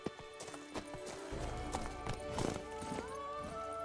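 Roach the horse clip-clopping in The Witcher 3: Blood and Wine, a steady quick run of hoof beats with snorts and whinny-like tones over game ambience.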